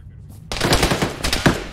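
Gunfire in Arma 3 breaks out after a short quiet moment as a rapid burst of close, loud machine-gun shots with an uneven rhythm, and a louder crack comes near the end.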